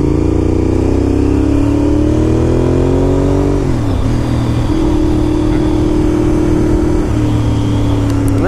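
A 2001 Honda RC51 motorcycle on a test ride, its engine loud and close as revs climb, drop through a gear shift and climb again, with wind rushing steadily underneath.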